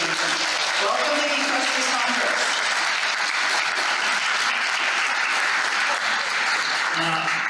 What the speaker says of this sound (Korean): 그분들 환영해 주시고 박수를 해주시기 바랍니다